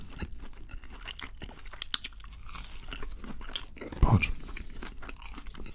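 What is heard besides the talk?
crunchy chewing of Burger King fast food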